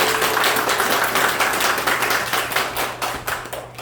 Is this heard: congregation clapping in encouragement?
yes